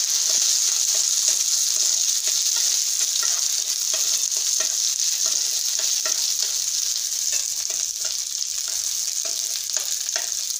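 Cashews and raisins fry in hot fat, probably ghee, for a carrot halwa, giving a loud, dense, continuous crackling sizzle with faint light stirring taps, close and steady throughout.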